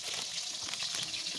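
Tomato hitting hot oil seasoned with a little sugar and whole cumin sizzles in a steady, close, hissing fry with no pauses.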